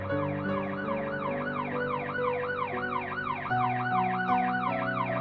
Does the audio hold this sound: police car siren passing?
yes